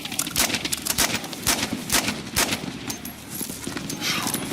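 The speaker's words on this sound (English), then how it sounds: "So when I'm shooting them side by side, it's immediately evident with the URGI that it's a much easier gun to control." URGI rifle firing in Battlefield 6, in rapid automatic bursts of sharp close shots with brief gaps between strings, loud and continuous through the whole stretch.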